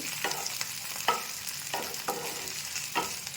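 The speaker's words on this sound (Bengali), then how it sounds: "এটা এখন জিরের সাথে পুরো ফ্রাই হবে" Sago fried with cumin in a pan, a steady close sizzle with regular scraping strokes of a spoon every half second or so.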